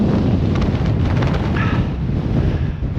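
Strong, cool wind blows across open ground in Iceland, a loud continuous roar buffeting the microphone with deep rumbling gusts and no let-up.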